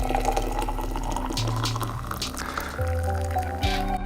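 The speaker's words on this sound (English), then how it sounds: "Pour boiling water here." Boiling water is poured into a metal mesh tea infuser holding large-leaf tea, making a steady splashing trickle with gurgling, rising fill tones that shift in pitch as the vessel fills, close up and alone.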